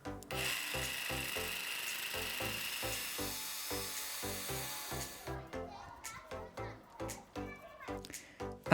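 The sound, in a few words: hand file smoothing grooves in MDF wood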